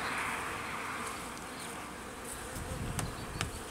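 Honeybees buzz steadily at an open beehive during an apiarist's inspection, a dense continuous hum that stays close and even throughout, with a few faint knocks and clicks near the end.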